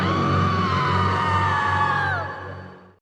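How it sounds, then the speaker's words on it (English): A cartoon character lets out a manic, sustained scream during a brutal death scene from The Real Adventures of Jonny Quest, loud and wavering before sliding downward and fading out over about two seconds. "given her manic scream."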